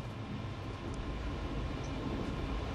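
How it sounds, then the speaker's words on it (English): A train rolls steadily along modern Croatian tracks as it picks up speed, a continuous broadband rumble of wheels and carriage at even loudness with no voices. "the train is picking up speed along Croatia's modern tracks"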